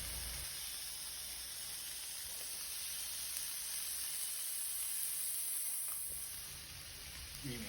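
Tofu sizzles steadily in a hot saucepan for Korean braised tofu (dubu jorim), a continuous bright hiss of frying that holds evenly throughout, with no talking.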